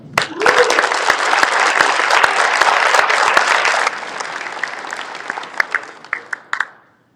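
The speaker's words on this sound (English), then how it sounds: "Let's give them a round of applause." Audience applause at a graduation ceremony for Marketing Strategies & Innovation and Innovative Project Management graduates, honoring the University of Akron: a dense, steady burst of many hands clapping that thins into scattered claps and fades out.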